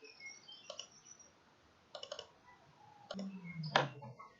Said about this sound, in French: on fait clic droit pour aller rapidement.